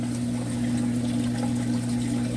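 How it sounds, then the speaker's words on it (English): A 125-gallon reef tank's protein skimmer and return pump, turned up high and bubbling over, hum steadily with a soft continuous wash of trickling, bubbling water. "protein skimmer turned up as far as I can, but it's still bubbling over"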